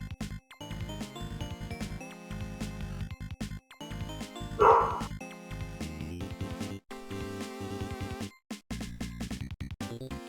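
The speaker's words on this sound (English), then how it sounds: "Sorry if you hear my dogs, by the way." Dogs bark in the background while the UFO 50 game plays, a few yips sounding at mid distance against steady game music and effects.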